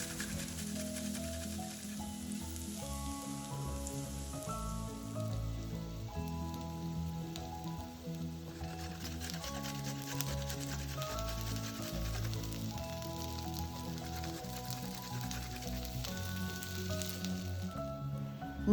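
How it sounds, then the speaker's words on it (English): Grated garlic and ginger sauté in olive oil in a heavy pot on a lit burner, giving a steady, soft sizzle. Background music with sustained tones plays throughout. "Add grated garlic and ginger. Saute them until they turn brown."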